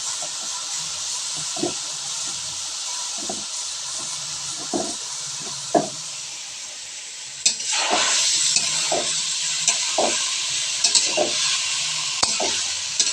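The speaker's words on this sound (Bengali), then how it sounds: "সেই মাছগুলো আগে আমি ভেজে নিচ্ছি, ভেজে তুলে রাখছি।" Koi fish frying in oil gives a steady close hiss broken by regular spatula knocks and scrapes. The sizzle jumps louder and more crackly partway through as the pieces are turned.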